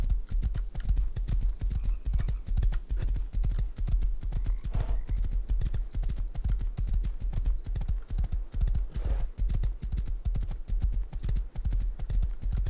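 Horse hooves clip-clopping steadily in the video game Rust, a fast, even stream of close, crisp hoofbeats throughout with a faint whinny in between.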